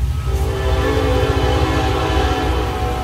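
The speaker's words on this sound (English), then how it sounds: "I heard a train in the background." A train rumbles past with a sustained, droning horn blast and steady rolling noise, loud and close, no talking.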